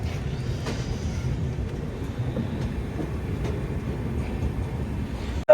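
A passenger train running from Udaipur City to Hazrat Nizamuddin rolls past at a station, a steady low rumble with faint rhythmic clatter throughout, close and fairly loud, without talk.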